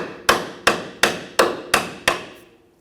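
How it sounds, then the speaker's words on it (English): Six sharp metallic hammer taps on a sway bar end link of a Nissan Frontier at a steady rhythm, close and loud, each ringing briefly before the next strike, then fading out. "try tapping it with the hammer, see if that comes out"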